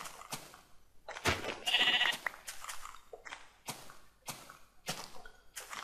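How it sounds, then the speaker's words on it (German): Sheep bleats from the Minecraft video game come in several short, separated bursts, fairly faint and clean, with brief pauses between calls and no talking. "Noch ein Schaf."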